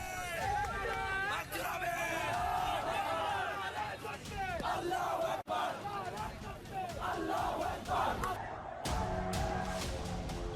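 A large crowd at a street gathering in Bangladesh loudly chants the Naara-e-Takbir slogan. Many massed voices rise and fall in rhythmic shouts amid general hubbub, with a brief break near the end.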